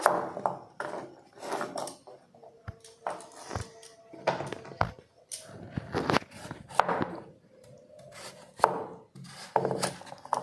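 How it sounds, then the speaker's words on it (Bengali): Knife cutting carrots into chunks for a carrot recipe, giving a series of close, sharp chopping strokes at an irregular rhythm, separated by brief pauses and soft rubbing between cuts. "গাজরগুলো সব এরকম করে কেটে নিয়েছি"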